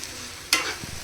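Cheese Maggi noodles with vegetables, extra cheese and coriander being mixed in a pan, giving one brief scraping stir over a soft, low sizzle, followed by a few faint taps.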